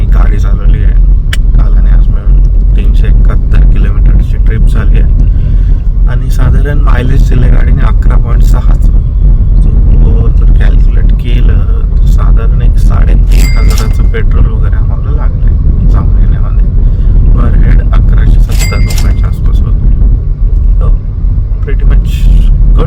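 A car travels on a road home from a Pune to Konkan trip, its low steady cabin rumble continuous throughout under a person talking.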